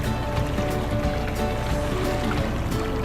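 Steady low engine drone with splashing water, a small boat motoring along in Greenland at moderate loudness, no talking.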